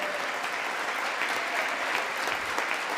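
A large audience claps during a Biden speech, a dense, sustained wash of applause filling the hall from start to end.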